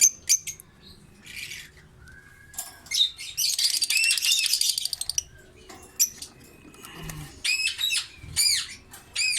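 Albino lutino lovebirds in a breeding cage give bursts of sharp, high chirps and squawks, with a stretch of rapid chattering and a few wing flutters, close and fairly loud.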